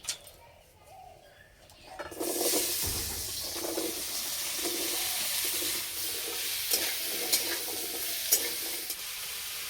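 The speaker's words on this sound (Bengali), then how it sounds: "জিরে ভাজা হয়ে গেছে, এবার আলু দিয়ে দেবো।" Potatoes sizzle and fry loudly in hot oil with already-fried cumin seeds. The clip starts quietly, then the frying bursts in after about two seconds and keeps a steady hiss with occasional stirring scrapes.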